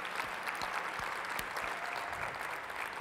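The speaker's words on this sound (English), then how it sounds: "Let's give another round of applause for him real quick." Audience applause at the BOOST Conference 2015, a continuous, even wash of clapping heard from some distance at a fairly soft level.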